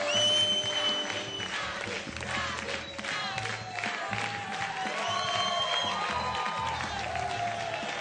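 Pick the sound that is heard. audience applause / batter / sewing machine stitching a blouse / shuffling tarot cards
audience applause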